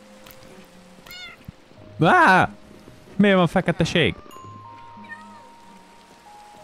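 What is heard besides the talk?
cat meowing in the video game Minecraft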